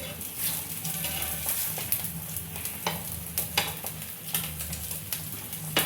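An omelette fries in oil in a pan, giving a steady sizzle broken by sharp scraping and clinking strokes of a spatula against the pan.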